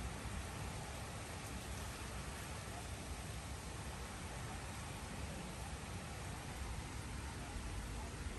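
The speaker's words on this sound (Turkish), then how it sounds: "Yağmur yağıyor." Steady rain pouring on an evening after thunder, following a hot day; a dense, even hiss of falling water runs unbroken and moderately loud throughout, with no voices.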